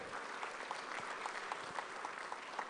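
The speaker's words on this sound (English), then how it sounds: "Shall we do a big round of applause for them?" A round of applause from the audience at an awards ceremony, the 7th EMY Africa Awards, steady, even clapping at moderate distance.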